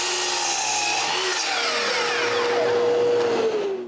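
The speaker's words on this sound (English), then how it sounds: "After finding out the size of the stretcher, I cut it." A power saw rips steadily through a wooden stretcher for a homemade snowmobile tow bar, a loud continuous whining buzz with the pitch sliding as the blade works through the wood, ending as the cut finishes.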